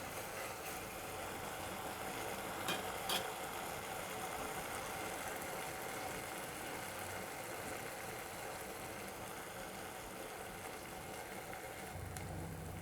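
Eggplant and onion frying in a pan with ginger-garlic and coconut paste make a faint, steady hiss and low rumble that runs the whole time, with a couple of light clicks and no talk.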